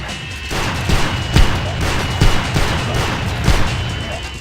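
Shotgun fire in the video game Hunter: The Reckoning, loud booming shots repeating every second or so over a continuous din of gameplay noise.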